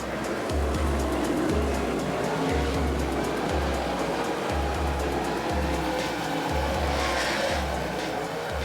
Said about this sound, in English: the cars muscle their way around each corner at speeds of over 100 miles an hour